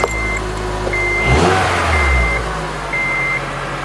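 A Honda Element with a power-loss and surging fault idles with a low steady engine rumble, close by, while an intermittent electronic beep chimes repeatedly over it.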